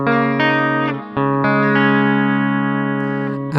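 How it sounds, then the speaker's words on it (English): Sustained electric guitar chords drenched in a long reverb darkened with its tone control, mellow, ringing and blooming between changes, through a Waverley Instruments Juniorverb Deluxe Plus Voltage Modular module; no talking. "now we can darken the tone of that reverb by pulling down this tone control"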